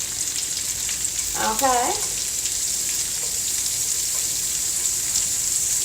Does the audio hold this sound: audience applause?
no